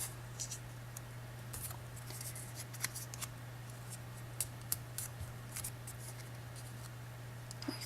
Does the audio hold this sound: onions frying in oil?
no